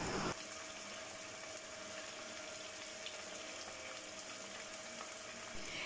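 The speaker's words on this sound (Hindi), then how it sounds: "और चिकन को मैं इतना फ्राई करूँगी कि इसका कलर जो है वो पिंक से वाइट हो जाए।" Chicken frying in oil in a Pakistani home kitchen, a steady close sizzle that holds evenly throughout with no talk.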